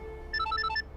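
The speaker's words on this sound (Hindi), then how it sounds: "बार बार फोन कर रहा है" A telephone rings in a brief electronic trill, a short burst of alternating tones at moderate volume over a quiet room background.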